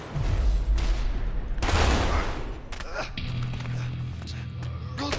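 Gunfire bursts in the video game A Way Out, loud and close in rapid clusters with heavy low thumps, followed by quieter rumbling and tonal background sound.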